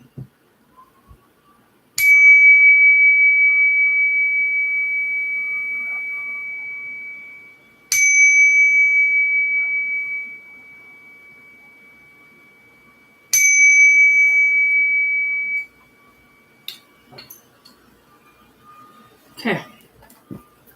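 A bell is struck three times, each ring sustaining clearly and decaying slowly over several seconds, followed by a few faint soft taps and knocks.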